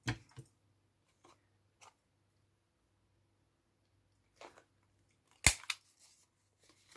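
Scissors trim the corners of a paper candle box in a few short, quiet snips spread across the moment, with one sharper cut standing out near the end against near silence.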